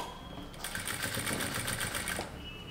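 A sewing machine stitches along the lining edge of a fabric neckline, a fast steady mechanical whir of rapid needle strokes for about two seconds, close and clear, then stops.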